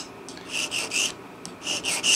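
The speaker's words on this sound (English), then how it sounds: "and then doing that with the nut and saddle file. The fine toothed file, not the extra fine." A fine-toothed nut and saddle file rasps over the nut area of a Guild D-55 acoustic guitar in several short back-and-forth strokes, close and fairly quiet, with brief pauses between passes.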